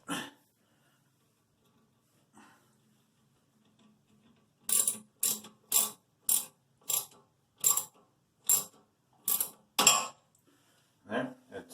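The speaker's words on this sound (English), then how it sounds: "got my 1/2 inch socket ratcheting wrench here" A 1/2 inch socket ratchet wrench clicks in a string of sharp, evenly spaced bursts while loosening a toilet seat nut, close and clear against near silence, after a few faint knocks.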